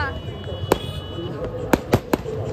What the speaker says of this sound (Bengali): লিটারালি এত বাজি ফাটছে, এত বাজি ফাটছে